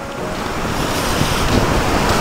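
Continuous rush of ocean waves mixed with strong wind buffeting the microphone, steady and loud throughout, no voices.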